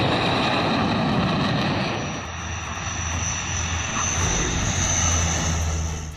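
Fighter jet touching down on the highway airstrip built on the Purvanchal Expressway, its loud sustained engine roar filling the whole stretch and easing slightly midway before swelling again, with no voices.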